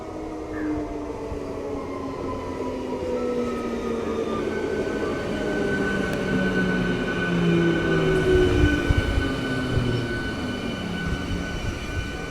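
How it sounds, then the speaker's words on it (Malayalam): A Coimbatore-Shoranur MEMU electric multiple-unit train rolls through Ettimadai railway station on the Tamil Nadu-Kerala border, a steady rumbling passage with faint wheel squeal and whining tones, moderately distant and without voices. "ഇതാണ് കോയമ്പത്തൂർ ഷൊർണൂർ മെമോ."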